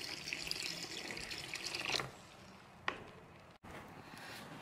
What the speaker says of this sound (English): I'm going to add the first 500 milliliters of water